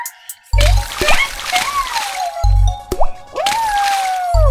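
Rain drops splashing as a cartoon sound effect: loud, close, bubbly plops and drips in an irregular rhythm, joined by a repeating low synthetic thump, with no voices.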